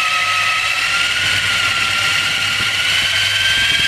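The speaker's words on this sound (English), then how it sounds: "it's trimming down the whole valve guide and valve guide boss" A Comp Cams valve guide cutter trims down a valve guide and its boss, giving a steady, loud high-pitched machining whine with a constant tone and a faint low hum underneath, unbroken from start to finish.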